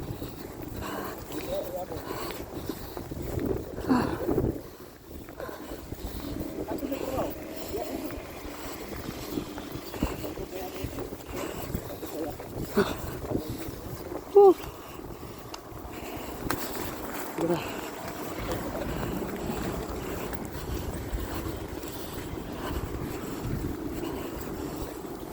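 Wind rushes steadily through a snowy outdoor setting during heavy snowfall, a low continuous roar with gusty swells, while a person talks over it.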